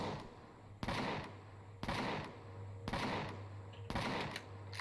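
Cannon turret firing in Empyrion Galactic Survival (Alpha 8): four heavy, evenly spaced blasts about a second apart over a low, steady hum, with no talking.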